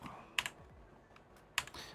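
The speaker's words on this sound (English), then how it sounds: "My delete key on my keyboard is going out, which is not awesome." Quiet keystrokes on a computer keyboard whose delete key is failing, with two short bursts of sharp clicks separated by softer, scattered taps in a quiet room.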